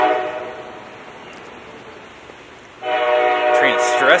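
Train horn blasting repeatedly on a hot day, loud and close, swelling after a quieter stretch of rumbling rail noise, with people talking nearby.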